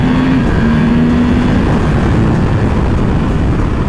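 A 2021 Yamaha R1M motorcycle roars loudly and steadily as it is ridden hard, with a constant dense engine and wind noise throughout.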